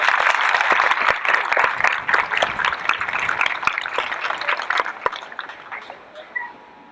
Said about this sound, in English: Let's give Mr. Miller a big hand clap